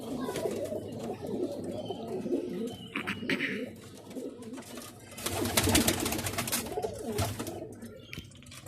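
Pigeons kept for sale coo and shuffle, with breeding birds and young flying pigeons among them. The calls come through steadily at close range, with a couple of louder bursts of activity, while faint talk runs in the background.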